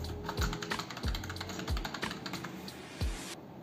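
A password is typed again on a computer keyboard, a run of close, distinct key taps in uneven rhythm, a few heavier strokes standing out before the typing stops.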